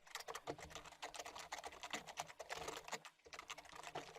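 Rapid, continuous keystrokes on a computer keyboard as a comment is typed, close and clear with a brief pause near the end before the clatter resumes.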